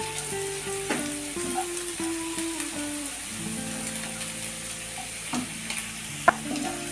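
Paneer malai kofta balls frying in oil, a soft, steady sizzle with occasional crackles up close, with faint sustained tones running underneath.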